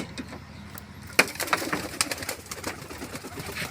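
Domestic pigeons kept in a loft, where squab are hand-fed, give soft intermittent coos and wing flutters up close, with a few sharp bird calls and rustles over a low, steady background.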